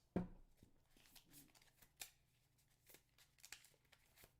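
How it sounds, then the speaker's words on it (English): A deck of playing cards is shuffled by hand during a Marvel Champions card game, giving a burst of riffling followed by soft flicks and rustles close by. "I'm gonna have to shuffle this."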